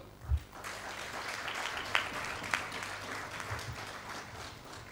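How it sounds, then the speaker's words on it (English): Delegates at a Pan-African trade union conference on democracy and governance clap together in a soft, distant round of applause, with a few louder thumps and sharp claps standing out from the steady patter. "je demande à tout le monde d'applaudir cette Afrique que nous voulons"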